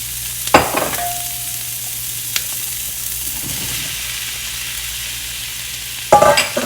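Mushrooms and garlic sizzle in olive oil in a pan, a steady hiss broken by a few clinks of stirring at the start and end.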